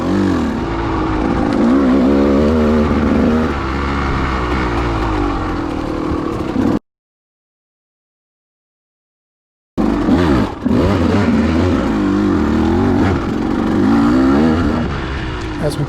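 A KTM 200 XC-W two-stroke dirt bike on forest singletrack revs loud and close, its engine note rising and falling continuously, cut by a few seconds of dead silence before the revving resumes.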